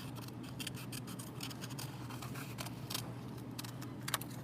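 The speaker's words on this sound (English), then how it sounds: "you are going to just cut out any type of a pattern that you want" Scissors snipping a pattern out of a piece of note card for a tessellation, a steady run of quiet, close crisp cuts and paper rustles with no talking.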